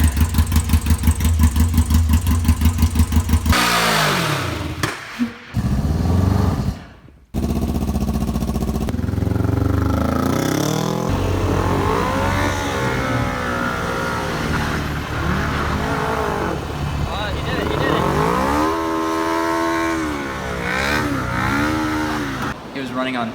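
An engine that had been running on two cylinders, now repaired, runs loud and close, rising and falling through repeated revs with brief cuts, and voices are heard over it at times.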